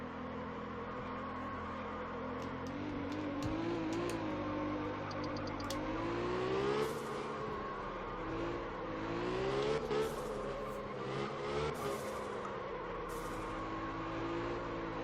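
Car engine in the drifting game Absolute Drift, a continuous droning whine rising and falling in pitch as the car revs and slides, steady and unbroken with no talk over it.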